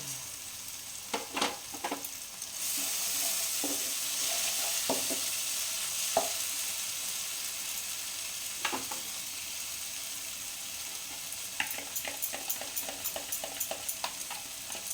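Dhaba-style paneer masala sizzling in a pan after sugar is added, a steady loud frying hiss with intermittent spoon scrapes and clinks, a burst of taps near the end.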